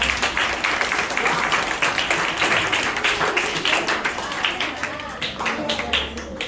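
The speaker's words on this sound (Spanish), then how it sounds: "Un aplauso para" Applause for a teacher at a school achievement-day event, a steady crowd of hands clapping loudly and continuously with voices mixed in.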